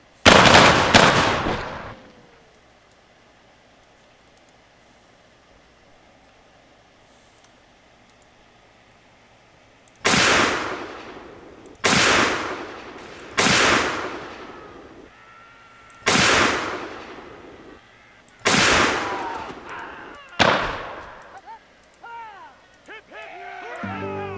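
Musket volleys in a US Civil War game mod, one big crack followed after a pause by a series of sharp, loud rolling blasts spaced a second or two apart, each trailing off in echo.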